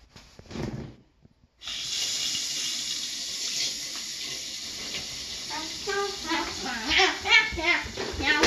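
Water streams from a kitchen tap in a steady hiss as it is added to rice for cooking, after a brief opening splash and pause; a voice talks over the running water near the end.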